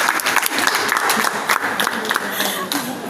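Classroom applause for a student in a history and digital humanities class: a loud, busy burst of many hands clapping together for about three seconds, close and steady, with crowd murmur mixed in.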